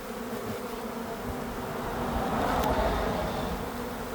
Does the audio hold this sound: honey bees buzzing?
yes